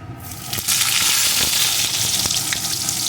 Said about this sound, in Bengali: পেঁয়াজ কুচিটা একটু ভেজে নেব